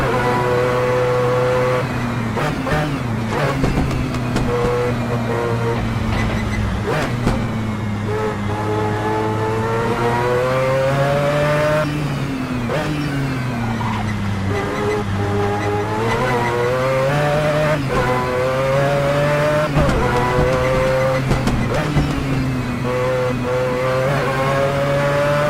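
Mazda 787B race car in a racing video game, its high-pitched rotary engine wailing steadily and loud throughout, rising and falling as it shifts and revs, with no talk.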